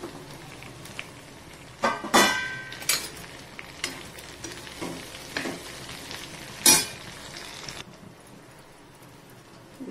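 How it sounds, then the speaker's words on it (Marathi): Green chillies stir-fried with turmeric in a pan for a Khandeshi chilli dish, giving soft sizzling with scattered scraping and clattering bursts from stirring, quieter toward the end. "मिरच्या परतवून घेतल्या."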